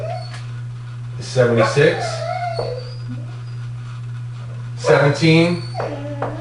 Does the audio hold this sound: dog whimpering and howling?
yes